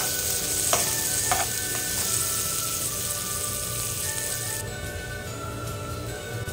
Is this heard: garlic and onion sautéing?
yes